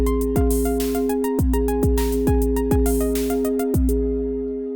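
A VCV Rack synthesizer sequence covering a track: bright, bell-like plucked synth tones in a repeating stepped pattern with a pitched kick-like thump pulsing under it, clean and close, with no voice.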